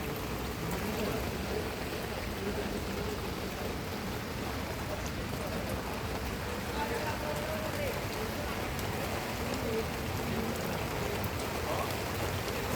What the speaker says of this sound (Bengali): এখন বৃষ্টি হইতেছে, প্রচুর আকারে বৃষ্টি হইতেছে রাতে।